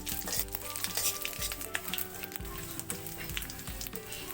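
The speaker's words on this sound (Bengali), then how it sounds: "তেজপাতা দিয়ে দেব, দিয়ে নাড়িয়ে নেব।" Bay leaves sizzle and fry in hot oil in a pan while being stirred, giving a steady close crackle with occasional scraping of the spoon; no one speaks.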